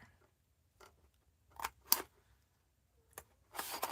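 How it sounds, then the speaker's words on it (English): Scissors snipping the small corner edges of a paper card folio in a quiet room: a few sharp, crisp close snips, spaced irregularly, with a louder cut at the end. "you just want to snip the little corner edges"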